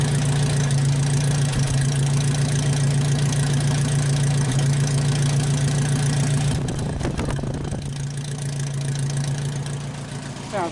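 A 1929 Whippet engine idles steadily with a low, constant hum, briefly sputtering and stumbling near the middle before settling back into its even idle, close and loud with no talking.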